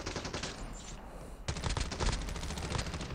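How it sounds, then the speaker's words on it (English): Rapid automatic gunfire from hip firing in the mobile game Call of Duty Mobile battle royale, loud dense bursts of shots, a brief pause, then a longer sustained burst. "Bit of hip firing."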